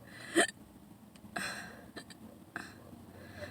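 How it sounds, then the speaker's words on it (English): Involuntary hiccups from a person just woken up: a few short, sharp throat spasms, close and isolated, spaced irregularly over quiet room tone with no talk. "I gotta go try to calm down these hiccups"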